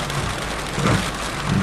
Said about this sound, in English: there is very heavy rain